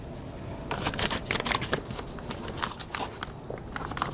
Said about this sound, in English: let me grab my scissors, because I cut this pretty big